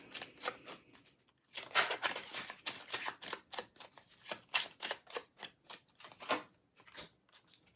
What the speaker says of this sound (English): So I'm going to pull 3 Kipper cards, please.